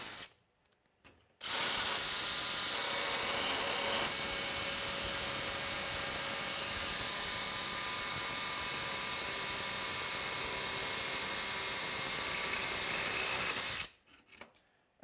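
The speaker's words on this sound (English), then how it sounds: "We'll start with a 1/4 inch drill bit. And we are just going to drill through here." A power drill with a 1/4 inch bit bores straight through pre-made holes in a workpiece, one continuous loud whirring run of about twelve seconds that starts and stops abruptly, heard up close with no talking.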